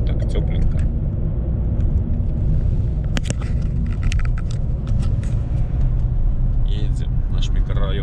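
A car driving along a road, its engine and tire rumble a loud, steady drone throughout, with a voice talking over it.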